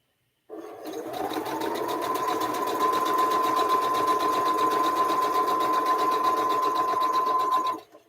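A Brother sewing machine threaded with white thread stitches quilt blocks around a panel, a close, loud, continuous mechanical whir with fast rhythmic needle chatter that starts, runs steadily for about seven seconds, then stops.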